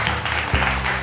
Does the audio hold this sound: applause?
yes